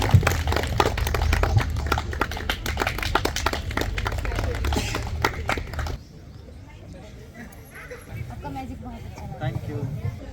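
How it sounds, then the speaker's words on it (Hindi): A street magic show audience bursts into dense, loud clapping for about six seconds, then stops abruptly and leaves quieter crowd murmur. "तालियां बजा दीजिए ऑडियंस"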